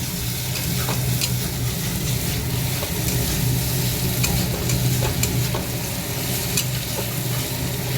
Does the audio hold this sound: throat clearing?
no